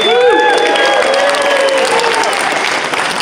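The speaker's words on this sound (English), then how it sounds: "Give a round of applause for Keith, please." Convention audience applauding at a Star Wars: The Old Republic cantina event in Chicago, a dense steady wash of clapping with some cheering throughout, voices mixed into the crowd noise.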